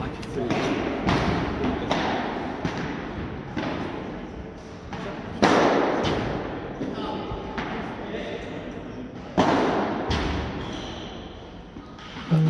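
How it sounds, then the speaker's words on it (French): A padel ball strikes the court grille during a P1000 tournament final at an open sports park in Laval; several sharp, hollow knocks and thuds ring out among steady court noise, with voices talking over the play. "La balle a touché la grille."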